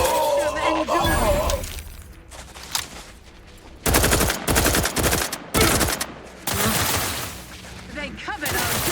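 Gunfire in the video game The Outer Worlds 2: loud bursts of automatic fire and single shots, dense and close, with shouted voices mixed in.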